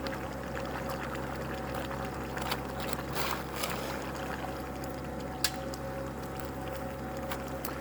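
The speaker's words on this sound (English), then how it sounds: "And with the water and the air coming out together, it makes a lot of noise." Water and air rushing together out of an old poly pipe installed in the 1970s, a steady loud gushing hiss with a low hum and small splashy bursts throughout.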